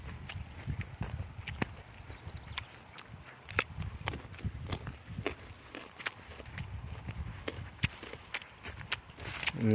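Footsteps tread along a path through riverside farmland, as steady, close thumps on the ground amid light outdoor background noise, with occasional soft voices.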